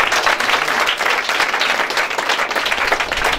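A church congregation bursts into loud, sustained applause, dense crowd clapping filling the whole moment without a break.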